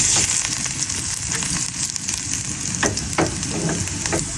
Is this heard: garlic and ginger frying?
yes